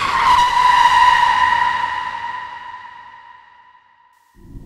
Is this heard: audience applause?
no